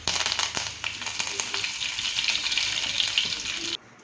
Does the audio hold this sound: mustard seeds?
yes